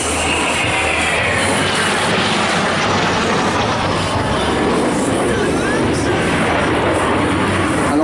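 Patrouille de France jets fly overhead during an air show at Gap-Tallard aerodrome, two solo aircraft cutting through a formation. A loud, steady roar holds throughout with no break.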